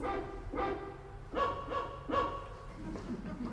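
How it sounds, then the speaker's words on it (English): Dogs barking in a run of four or five rough, evenly spaced barks, fairly soft and slightly distant, with a low murmur beneath. "And dogs bark blue in the face."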